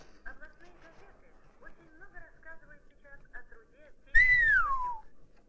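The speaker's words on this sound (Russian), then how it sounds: "Ты чего свистишь?" A person whistles one loud, close, descending note lasting nearly a second, following a stretch of quiet talk in the background.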